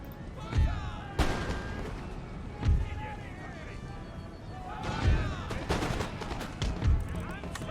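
Artillery firing canister shot at line infantry in the strategy video game Empire: Total War, several deep booming blasts spaced a few seconds apart, with battlefield clatter and a voice talking over it.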